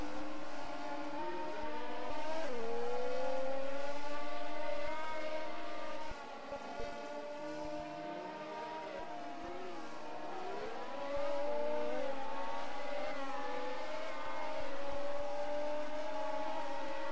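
A racing car laps a track in a Roblox video game, its engine whining and rising and falling in pitch through gear changes and revs, loud and steady throughout with no speech.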